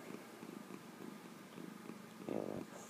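A domestic cat purring contentedly after catnip, a soft low rhythmic rumble in steady pulses up close, swelling louder near the end; no talking.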